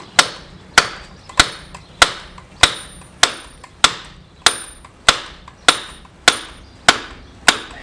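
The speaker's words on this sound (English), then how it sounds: "with a copper hammer, we're just going to try and get this moving now" Copper hammer striking a rusted brake disc hub on a Ford Transit Custom front axle, about thirteen evenly spaced sharp metallic blows, loud and close with brief ringing decay.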